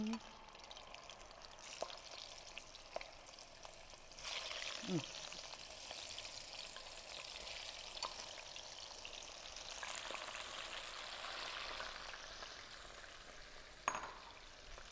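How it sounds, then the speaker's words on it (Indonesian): Potatoes fry in hot oil over medium heat with a steady, soft sizzle and crackle, punctuated by occasional light clinks and faint background voices at a live cooking demo. "sekarang kita goreng kentangnya ya"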